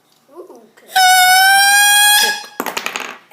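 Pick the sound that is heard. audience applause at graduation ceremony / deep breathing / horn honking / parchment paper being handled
horn honking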